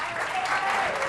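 Brief audience applause in a Catalan spelling-contest TV studio, a short burst of steady crowd clapping heard close.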